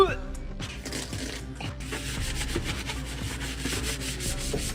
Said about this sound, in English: Time to scrub.